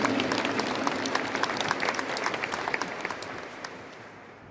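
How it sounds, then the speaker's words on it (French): A church congregation at Sunday Mass applauds loudly and steadily, a dense wash of many hands clapping close and full, then thinning out and fading away toward the end. "On peut l'acclamer très fort."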